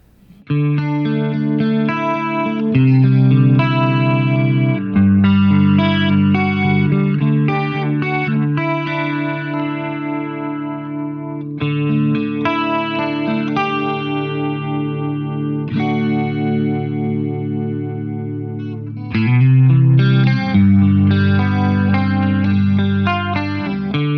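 Electric guitar through a Walrus Mako M1 in stereo tri-chorus mode plays sustained chords and arpeggiated notes with a shimmering chorus and lush reverb, steady and full, no voices.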